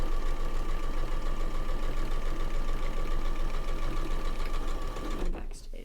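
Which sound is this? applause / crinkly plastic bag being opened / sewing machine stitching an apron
sewing machine stitching an apron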